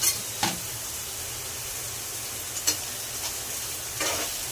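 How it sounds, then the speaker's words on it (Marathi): Chopped onions sizzle and fry steadily in a pan for egg bhurji, cooking toward golden, with a constant close hiss and a few brief stirring clatters. "थोडं सोनेरी रंग येईपर्यंत भाजायचंय."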